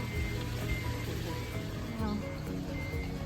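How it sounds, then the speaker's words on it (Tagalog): Steady rain pattering on surfaces, a constant wash of drops with some low rumbling underneath. "Umuulan pa rin siya palangga, pero tubig ulan na lang."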